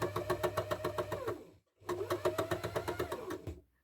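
A needle felting machine punches wool felt onto fabric in a fast, regular mechanical chatter with a low motor hum. It runs in two bursts separated by a brief stop, loud and close, with no talking.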